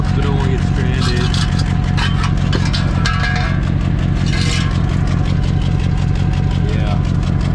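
Car engine idling with a piece of its exhaust fallen off, a loud steady rumble with some clatter running throughout while someone talks over it.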